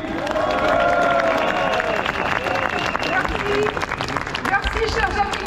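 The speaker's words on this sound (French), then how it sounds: "Je vous prie de faire un tonnerre d'applaudissements à Valérie Lopi." A large crowd at a peace march rally in Paris claps and cheers loudly, a dense sustained wave of applause mixed with shouts and voices.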